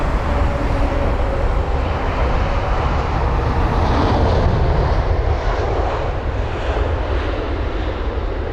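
Boeing 787 airliner arriving at Heathrow, its engines a steady, loud broadband roar that swells slightly and then eases as the jet passes at sunset.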